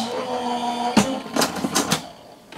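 A die cutting machine clicks and rattles mechanically as a craft piece is run through it, with sharp ticks and a low hum, close and moderately loud.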